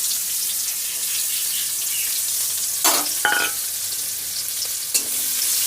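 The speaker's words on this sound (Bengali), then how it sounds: "পেঁয়াজটা আবার ভালো করে ভেজে নেব" Chopped onions and potatoes fry in a pan with a steady, loud sizzle throughout, broken by a few short clatters of stirring.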